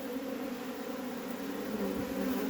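Honeybees fighting over syrup buzz in a steady, dense drone close by, continuous throughout with no voices.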